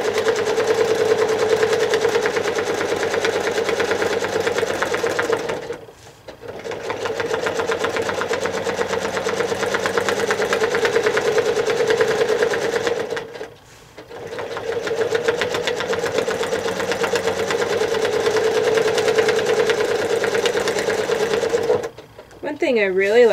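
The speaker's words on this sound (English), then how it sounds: "So this whole thing I'm going to stitch in and fill before I move on to the other side." A sewing machine quilting through stiff painted fabric runs in long steady bursts of rapid stitching, pausing briefly twice, loud and close.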